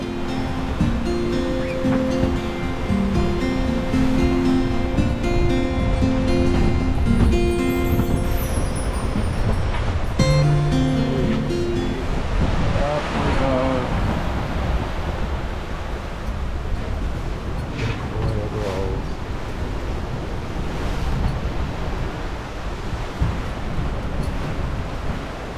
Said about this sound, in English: Waves coming, going northwards, and the waves going eastwards and meeting each other in the middle